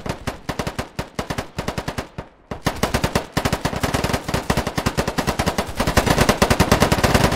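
Rapid automatic gunfire from a video game shooter comes in dense, loud bursts of evenly spaced shots. A brief pause near the middle breaks the firing, then it resumes heavier and continuous to the end with no talk.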